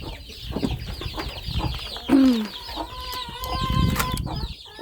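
Chicks left by their broody hen peep and cluck close by in short, overlapping calls, with a louder squawk and some wing flapping partway through.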